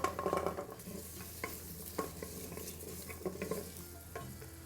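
Garlic, ginger and shallots fry in oil inside a multi-cooker with a cinnamon stick and star anise, giving a steady low sizzle broken by a few scraping stirs and soft clicks of a utensil.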